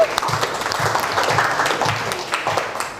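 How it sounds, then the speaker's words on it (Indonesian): A classroom of students claps for a group that has just presented, in a brief, fairly even patter of hand claps with some voices mixed in underneath. "Tepuk tangan buat mereka"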